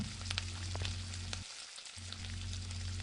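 Tomatoes deep-frying in hot oil while making a tomato and egg curry, a steady close sizzle with small crackles, accompanied by a low background hum that drops out briefly midway.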